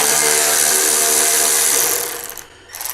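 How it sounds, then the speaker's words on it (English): A 10mm bolt comes out of a motorcycle dash with a loud, close, continuous ratcheting whir that runs steadily, then drops off abruptly and briefly resumes. "down here, you're gonna have your 10mm bolt. Go ahead and pull it out."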